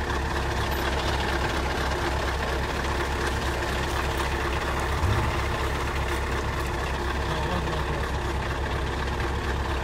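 A car engine idles steadily with a low, continuous rumble, close and fairly loud, during a protest blocking a bridge over the Bzyb river in Gagra, with a brief low bump midway and no clear speech.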